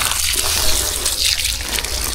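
Steady rush of water from a garden hose, watering young EVIARC sweet jackfruit seedlings, a continuous broadband splashing flow that runs unbroken and fairly loud throughout, with no voices over it.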